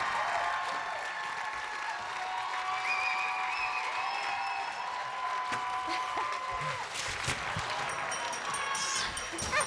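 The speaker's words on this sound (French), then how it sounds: "Et tout ça se termine dans une débandade totale sous les applaudissements d'un public en délire." A studio audience at a game show applauding and cheering, a dense, sustained wash of clapping heard up close, with whistles and shouts rising near the end.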